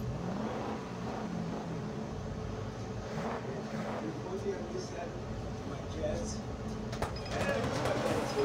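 Car engine revving at a race launch in the mobile racing game Need for Speed No Limits, a steady loud roar rising in intensity toward the end, with someone talking excitedly over it.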